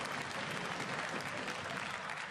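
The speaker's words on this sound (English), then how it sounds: "You can hear the energy of the crowd." An esports arena crowd before a League of Legends match (G2 vs H2K, EU LCS Summer Split 2016) applauds and cheers, a dense, steady wash of clapping filling the hall, loud and unbroken.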